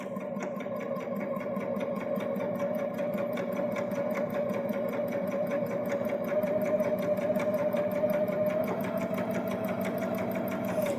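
Baby Lock Jazz II sewing machine running steadily while stitching fabric through a single fold bias binder attachment, a continuous close whirring motor hum with rapid needle ticking and no pauses or voices.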